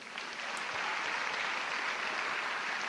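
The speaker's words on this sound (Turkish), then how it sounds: "Here, alkışlayalım. Give him a hand," A crowd applauds a guest at a brain-wave demonstration event, steady dense clapping that fills the whole moment at even loudness, with no voices over it.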